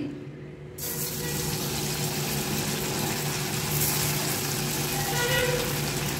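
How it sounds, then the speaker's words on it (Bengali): Koftas are dropped one at a time into hot oil, which erupts into a steady, loud, broad sizzle that holds throughout. "তেল গরম হয়ে গেছে, এবার আমি এক এক করে কোপ্তা দিয়ে ভেজে তুলব"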